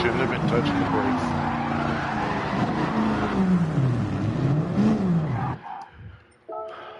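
A fast car races around a track, its engine whining and rising and falling through the gears, tires squealing in places, loud and close before cutting off abruptly; someone talks at points.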